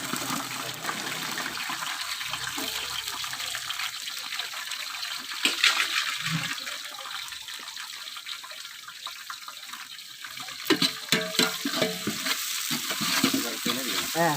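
About twenty green chillies fry in a pan for rice, with a steady sizzle and occasional stirring scrapes heard close by.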